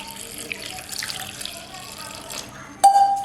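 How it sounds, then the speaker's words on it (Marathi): Water splashes into a pot holding tamarind, jaggery, cumin, chili powder and salt for panipuri, a light running pour that ends in a louder, close splash. "ह्याच्यात आहे ना आपण पाणी टाकूया"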